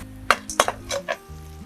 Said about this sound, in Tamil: இந்த மாதிரி லேசாக வதங்குற டயத்தில் கொஞ்சமாக வேர்க்கடலையை சேர்த்துக்கோங்க.